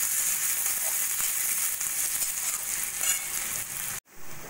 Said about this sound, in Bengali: পেঁয়াজটা একটু হালকা সোনালি করে ভেজে নেব।